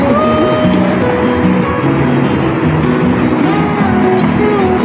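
A boat motor runs loud and close with a steady, unbroken droning hum and a constant rumble that holds level the whole time, without any voices.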